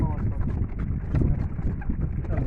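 A horse's hooves clip-clop on a road as it pulls a slow-moving ride, the steady knocking mixed with rumbling wind noise and faint voices throughout.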